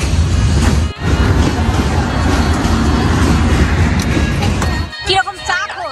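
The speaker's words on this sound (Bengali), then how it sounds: "কতকাল পর শুনছি এই ঝিকঝিক ঝিকঝিক ট্রেনের শব্দ" A train rolls past with a loud, steady rumble and rhythmic clacking on the rails that continues for about five seconds, then briefly drops away before more scattered sounds follow.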